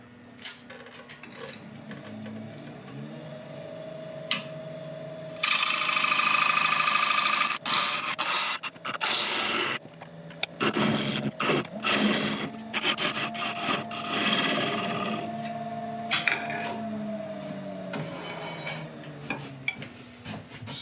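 Chestnut burl bowl turning on a wood lathe, with a steady scraping, rubbing cut of the gouge on the spinning burl wood, close and fairly loud, running in uneven bursts throughout with no talk.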